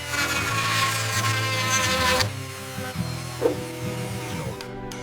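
A soft buffing wheel runs against a bull horn, a steady machine whir with shifting tone that drops and softens partway through as the pressure eases, close and fairly loud with no talking.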